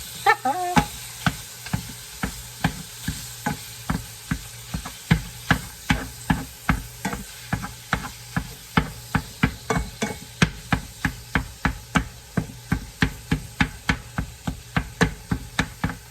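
Burger patties of local pork and beef are pressed flat with a hamburger smasher, then left to cook slowly in a pan. A steady sizzle runs under a long, even series of sharp taps and scrapes, close and without voices.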